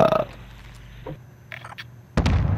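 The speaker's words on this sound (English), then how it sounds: "What's up with this burping in my ear, man?" Burping heard over online voice chat during a Call of Duty: Modern Warfare match, with a loud wet burst near the end after an earlier short gurgling belch, compressed and close to the microphone.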